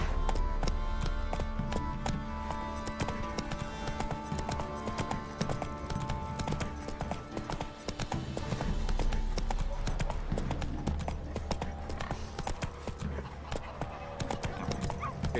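Roach the horse walks along in The Witcher 3: Wild Hunt, steady rhythmic clip-clop hoofbeats close by, with game ambience and other sounds layered underneath throughout.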